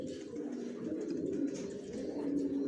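Racer pigeons, young birds, coo in a steady low murmur that continues throughout, close and moderately loud, with several birds overlapping in a dense layer and no talk.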